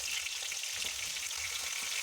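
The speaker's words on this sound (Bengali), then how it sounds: "এবারে আমি বেগুন ভেজে নিচ্ছি।" Eggplant slices frying in hot oil on a high flame, a steady, dense crackling sizzle heard up close without pause and with no talk over it.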